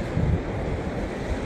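Sea waves wash against a rocky shore where stone oysters are gathered, a loud, continuous rushing roar mixed with wind buffeting the microphone, with no talking.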